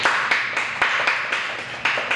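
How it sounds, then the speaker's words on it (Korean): A church congregation at a Sunday service claps together in a steady, fairly quick rhythm, each sharp clap ringing close and bright with no voices over it. "아브라함을 위해서 박수 한번 칩시다."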